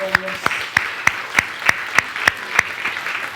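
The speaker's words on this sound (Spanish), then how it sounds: "Den un aplauso al Señor." A church congregation claps during a worship service, a short run of evenly spaced, sharp unison claps in a roughly steady rhythm, close and distinct over a faint background.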